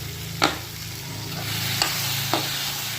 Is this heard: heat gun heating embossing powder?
no